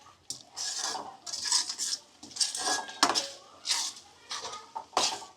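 A spoon scrapes and clinks repeatedly against a pot while whole onion gravy is stirred, with bursts of metallic clatter in an irregular rhythm, close and moderately loud.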